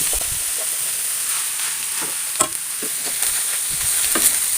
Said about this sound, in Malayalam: എല്ലാം കൂടി നല്ലോണം മിക്സ് ചെയ്തെടുക്കാം